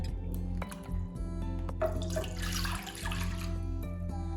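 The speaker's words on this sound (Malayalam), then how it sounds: "ഇനി വേണ്ടത് 1 കപ്പ് മിൽക്കാണ്. അത് ഈ ഒരു നോൺ സ്റ്റിക്ക് പോട്ടിലോട്ടേക്ക് പോർ ചെയ്ത് കൊടുക്കാം." Milk is poured into a non-stick pot, giving a steady liquid splashing and trickling wash that builds in the middle of the pour. Rhythmic background music plays underneath, and no one speaks.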